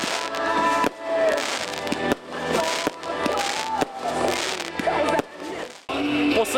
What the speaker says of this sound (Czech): začne nádherným ohňostrojem